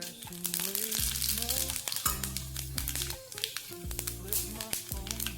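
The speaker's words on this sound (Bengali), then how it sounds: "এবার এতে 5 ফোড়ন দিয়ে দিব।" Panch phoron spices dropped into hot oil sizzle and crackle in a close, busy frying hiss, partly under tonal background music.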